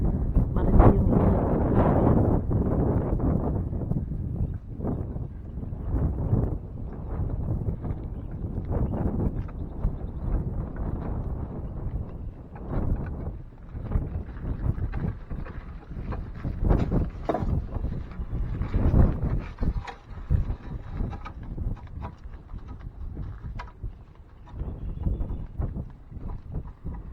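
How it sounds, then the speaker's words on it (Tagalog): Strong wind on a hot day buffets the microphone outdoors, producing nearly half a minute of continuous low rumbling gusts that rise and fall in loudness, with faint clattering underneath. "sobrang lakas ng hangin pero sobrang init din."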